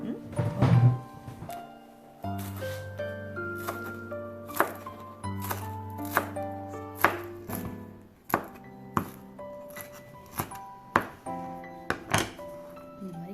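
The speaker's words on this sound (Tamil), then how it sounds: "இப்போ இதை கட் பண்ணி இதில் போட போகிறேன்." A knife chops banana flower on a board, producing brisk, repeated sharp thunks at close range in an irregular rhythm, with sustained tonal background sound running beneath.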